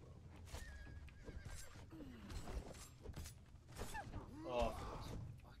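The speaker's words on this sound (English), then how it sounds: "Whoa, horsey." Horse in a video game neighs and whinnies in rising bursts amid busy game effects and clattering, with players talking over it throughout.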